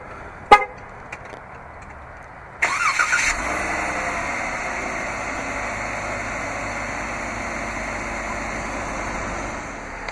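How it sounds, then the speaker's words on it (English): A 2015 Jeep Wrangler Unlimited Sahara starts by remote: a sharp horn chirp, then after a pause the engine cranks and catches, settling into a steady idle. "this vehicle is equipped with a remote start. Just double press the remote start button on the key fob."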